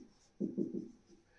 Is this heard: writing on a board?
yes